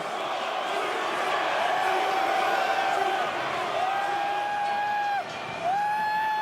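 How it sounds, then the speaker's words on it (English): A roaring football stadium crowd cheers loudly and without a break at a 2004 Philadelphia Eagles game, with a high whistle-like tone sliding in and out over the din. "He's inciting the crowd. This place is going crazy."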